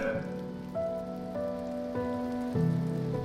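Rain falls steadily in a scene from a period drama. The even patter runs throughout beneath sustained tonal music, with no voices.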